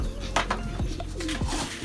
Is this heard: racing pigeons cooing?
yes